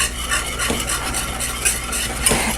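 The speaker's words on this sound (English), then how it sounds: "we're going to add a half a cup of our chicken gravy mix into our boiling water" A whisk stirs chicken gravy mix into two cups of boiling water in a pot, giving a steady close scraping and swishing with light metallic clicks throughout, no talk.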